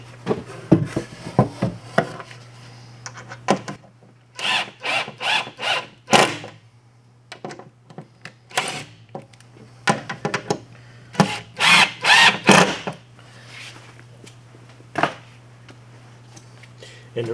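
Drill countersinking screw holes in a boat's crash bulkhead, heard as repeated short bursts of whirring spaced through the clip, fairly close, alternating with pauses over a steady low hum.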